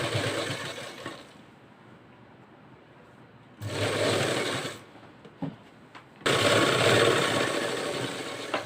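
A sewing machine stitches a collar-neck blouse in separate bursts, each a loud, close mechanical whir, with quieter pauses between them and one short stutter near the middle.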